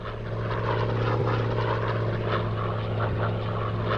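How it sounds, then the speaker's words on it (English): Propeller aircraft engine droning steadily on the deck of the USS Enterprise carrier in the Air Conflicts video game, a loud, continuous low hum with buzzing harmonics and no voices. "Now get that plane in the air."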